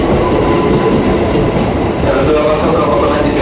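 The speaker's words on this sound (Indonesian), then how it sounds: "Ini dia komuter tujuan stasiun Tanah Abang keberangkatan Rangkas Bitung JRS 2056." A KRL commuter train bound for Tanah Abang from Rangkasbitung pulls into Pondok Ranji station with a loud, steady, close rumble of wheels and carriages.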